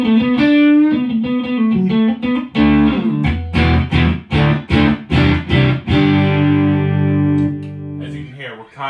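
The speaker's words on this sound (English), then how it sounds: "As you can hear, we're kind of getting more of a reverb sound." Electric guitar notes and chords through a Boss DD-2 digital delay pedal ring out with a trailing echo and spacious wash, each strum smeared into lingering repeats.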